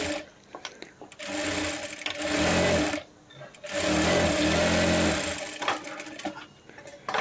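A sewing machine stitches the back lining of an embroidered blouse in two long, loud whirring runs separated by a brief pause, followed by a few short bursts.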